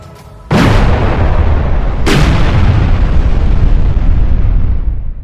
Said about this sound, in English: Tanker hit by torpedo full ahead.